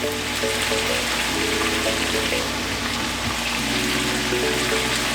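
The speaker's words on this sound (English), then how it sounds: "go ahead and add in the water." A steady rushing pour of about two cups of water into a pot of curry chicken, continuous and close, with a faint bubbling undertone.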